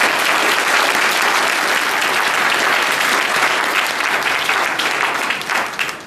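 Sustained, dense applause from an audience at a university honor society induction ceremony, steady and loud throughout before thinning slightly at the very end.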